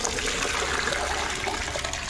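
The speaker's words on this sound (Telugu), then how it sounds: "వడపోసుకుందాం వాటర్ని." Water from blanched cauliflower florets drained through a colander, a loud, steady rushing pour that gushes close by for a couple of seconds with no voices.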